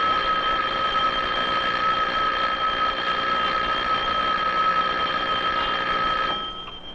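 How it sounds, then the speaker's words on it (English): An electric bell rings continuously and loudly for about six seconds with a steady metallic buzz, then cuts off abruptly and leaves a faint tail. "But when you ring the bell,"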